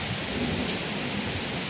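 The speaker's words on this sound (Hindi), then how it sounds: "हवा के झोंके के साथ झमाझम बारिश हो रही है।" Heavy rain pours down steadily in gusting wind, a dense, loud, continuous roar with no break and no voices.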